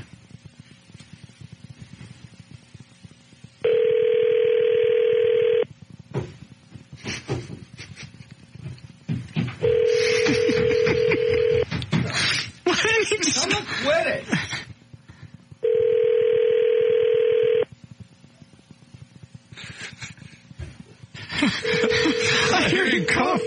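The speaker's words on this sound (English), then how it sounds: "Rob, answer the phone." Telephone dialing tones and long electronic ring bursts repeat between stretches of muffled chatter and laughter on a radio show, the rings loud and evenly spaced.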